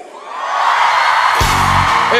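A loud crowd at the Festival de Las Condes 2024 shouts together in a sustained roar, briefly swelling into a bigger collective yell on cue before carrying on.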